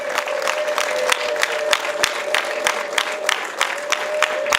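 Guests at a Rwandan wedding ceremony raise a high sustained ululation of impundu while scattered clapping rings out in irregular sharp bursts, with crowd noise under it.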